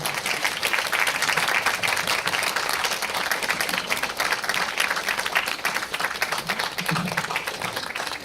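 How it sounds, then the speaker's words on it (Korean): An audience at a post-screening talk for the film Glass Garden applauds steadily and densely as the director and actors are welcomed to their seats. The clapping is continuous throughout, with faint voices murmuring underneath. "뜨거운 박수 부탁드리겠습니다"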